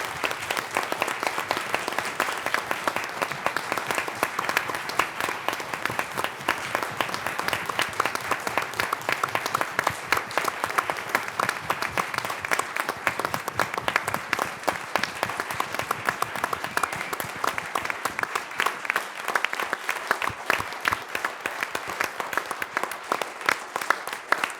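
A courtroom audience stands and applauds for a retiring justice, a dense, sustained ovation of many hands that keeps an even, loud level for the whole stretch.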